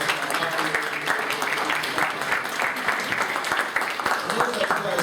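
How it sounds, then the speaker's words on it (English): Sustained applause from a conference audience for the panelists at a session on the Greek crisis, a dense continuous patter of many hands at moderate volume, steady throughout with faint voices beneath. "But a big round of applause for our panelists"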